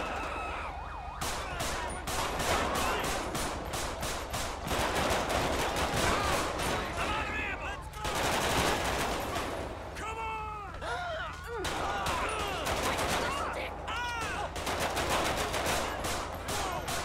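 Rapid bursts of gunfire in Grand Theft Auto V police gameplay, dense crackling volleys mixed with wailing sirens, continuous and loud, with voices talking over parts of it.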